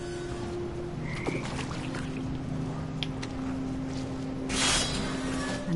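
Toads croak and frogs chirp in a dark cave-like scene in What Remains of Edith Finch, scattered calls over a steady humming ambience with faint drips and a brief water swell near the end, no talking.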